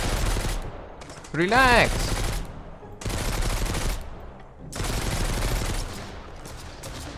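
M4 rifle fire in the Mist Survival video game comes in three long, loud automatic bursts separated by short pauses, with someone briefly shouting between the first and second bursts.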